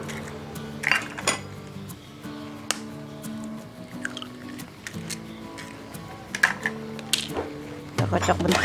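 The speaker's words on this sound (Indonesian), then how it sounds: "Kita kocok bentar ya." Eggs being beaten in a bowl for an old-style milk sponge cake, with irregular clinking and tapping of a utensil against the bowl, some sharp knocks, and faint background tones.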